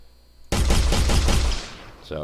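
A gunshot in a video game demo: one sudden loud blast followed by a brief rattling burst of shots that fades out after about a second.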